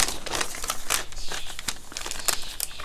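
Paper or craft material being cut with scissors, producing a steady run of crisp crinkling snips and rustles up close, with no talking.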